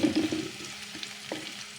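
Mung beans hit a hot pan and get stirred, a brief close sizzle with a few scraping and clinking spoon strokes and no voices.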